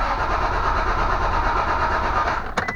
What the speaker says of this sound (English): I'm gonna crank it until the oil pressure light goes out.